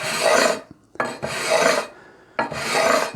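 A 320 grit sanding beam rubbed over the frets of a Rickenbacker 620/12 guitar, making three close, steady rasping strokes separated by short pauses.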